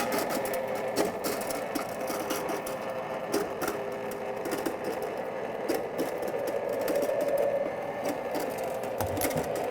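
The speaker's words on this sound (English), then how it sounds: "Turn on my ice cream maker." An ice cream maker churns a star anise and orange-infused canola ice cream base, giving a steady, low mechanical whir with faint rattles that runs unbroken and fairly quiet throughout.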